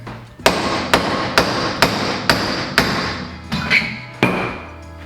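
A hammer strikes a seized CD part about nine times in a fairly even rhythm, each blow a sharp close metallic crack with a short ring, and no talking between hits.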